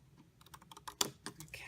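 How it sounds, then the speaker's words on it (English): Scissors snipping through cardstock along scored lines for a Halloween paper craft, a quick series of faint, close crisp cuts with no talking. "So I'm just going to cut right on those lines on both sides."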